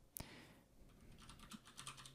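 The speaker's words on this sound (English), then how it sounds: "By typing ifconfig and pressing return" A command typed on a computer keyboard at a FreeBSD machine begins with a sharp key hit, then comes a run of quick, light key clicks close by, with no voice.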